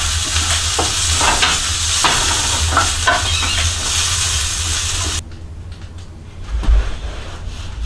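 Johnsonville breakfast sausages and hash browns fry together in a pan with a loud, steady sizzle and crackle that drops abruptly to a quieter simmer near the end.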